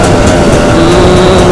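A KTM 300 EXC supermoto two-stroke engine fitted with an FMF Gnarly exhaust and Akrapovic silencer holds a loud, close, steady muffled drone with a raspy buzz and slight pitch wavering.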